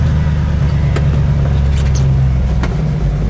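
A 1966 Ford Mustang Fastback cruising on the road, its engine giving a loud, steady low rumble heard from inside the car with faint interior clicks, no voices.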